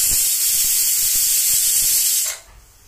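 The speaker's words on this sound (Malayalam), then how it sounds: "ഒരു വിസൽ ഇവിടെ വന്നിട്ടുണ്ട്." A pressure cooker cooking beef biryani lets off a loud, close, steady hiss of escaping steam that cuts off abruptly near the end, leaving a quiet room.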